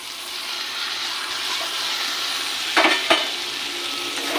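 Chopped tomato and steamed green peas sizzle steadily in a pan, with two brief louder clattering scrapes of stirring near the end.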